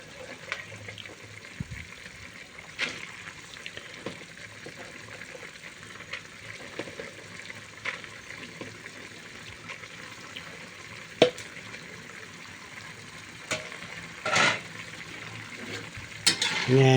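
Food with snow peas frying in a pan while being stirred, a soft continuous sizzle broken by scraping utensil clicks and a few louder clacks near the end.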